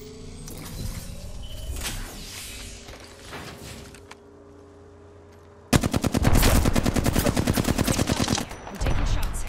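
Video game gunfire during a rooftop firefight: scattered shots and mechanical clatter at first, then after a brief lull a loud, rapid automatic burst hammering on for several seconds, pausing, then resuming.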